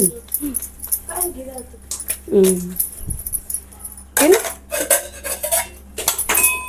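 Dishes and cutlery clatter and clink while being washed, in uneven bursts, with a person talking intermittently.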